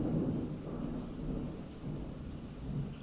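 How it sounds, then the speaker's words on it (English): Thunder rumbles low and heavy through the whole stretch, a loud rolling crack with steady rain beneath it and no voices. "And that was thunder."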